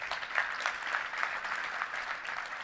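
An audience at a touchdown club luncheon applauds a university athletics director, a dense, steady wash of clapping from many hands that holds at an even level throughout.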